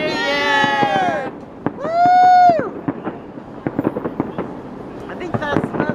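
New Year's Eve fireworks burst over Seattle's Space Needle in a rapid series of sharp pops and crackles, while nearby people whoop and cheer over the blasts.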